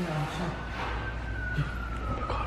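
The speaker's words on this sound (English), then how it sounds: "Sirens are coming, dude." Sirens approach, a thin steady wail held over a loud rumbling background throughout the short stretch, with no clear talking.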